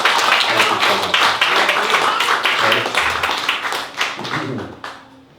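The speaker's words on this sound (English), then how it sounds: "So a round of applause for everyone that spoke tonight." Wedding guests clap for the evening's speakers, with distinct individual hand claps audible within lively group applause that tapers off at the end while a few voices murmur underneath.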